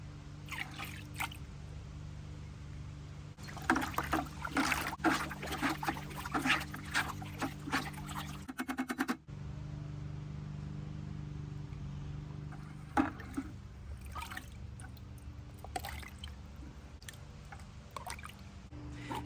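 Soaking solution of fertilizer and Neptune's Harvest fish emulsion is poured into small containers, with liquid splashing and trickling in bursts, brief pauses and clunks of handling between pours.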